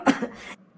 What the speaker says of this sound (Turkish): Bir anda öksürük geldi.